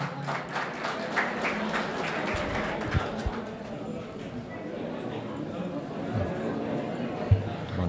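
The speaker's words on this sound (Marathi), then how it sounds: "गंगासागरे सरांसाठी परत एकदा जोरदार टाळ्या" An audience at a government Ayurvedic college alumni meet applauds, steady moderate clapping under someone speaking through a microphone, with scattered crowd chatter in a large hall.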